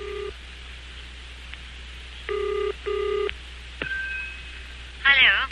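A telephone rings with two short electronic double trills over a low steady hum, near and clear, followed by a brief warbling tone.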